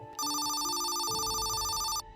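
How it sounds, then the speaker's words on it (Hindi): An electronic phone ringtone used as a horror-story sound effect, a single loud, bright trilling ring lasting about two seconds, heard alone. "वो अपने ख्यालों में से तब बाहर आया जब उसका फ़ोन दोबारा रिंग हुआ।"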